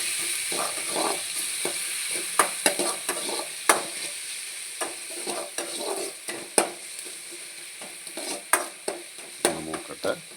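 Garlic and curry leaves frying in a pan, a continuous sizzle broken by repeated sharp scrapes and clinks of stirring spread irregularly throughout, close and fairly loud, with no talk.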